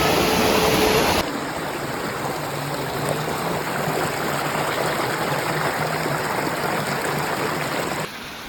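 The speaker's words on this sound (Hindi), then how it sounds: "नदी में पानी की आवाज़" River water rushing steadily near Savri Waterfall in Goa, a dense, continuous broadband roar close by that holds unbroken from start to finish, with no voices.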